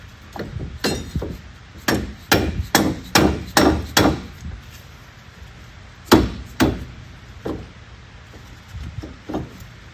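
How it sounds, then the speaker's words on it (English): Sharp repeated blows from a dead blow hammer strike metal during a car wheel repair, a quick run of about eight heavy hits, then a pause and a few scattered knocks. Loud and close, with no talking. "Use your dead blow."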